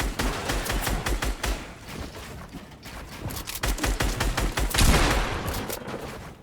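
Rapid gunfire from shooting in a video game, bursts of sharp repeated shots in quick succession across the whole stretch, loud and dense, with no talk over it.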